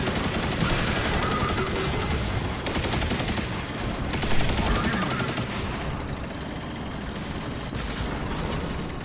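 The Heir Apparent machine gun in Destiny 2, firing in a long, dense, unbroken stream with a loud, steady roar that holds across the whole stretch.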